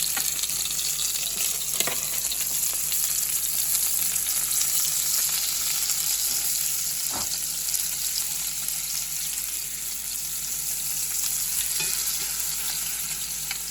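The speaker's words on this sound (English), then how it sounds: "immediately throwing my butter in so it can be melting in here" Butter melting in a hot pan gives a steady broadband sizzle and fry hiss throughout, with a few faint clinks and taps from the cookware, and no talking.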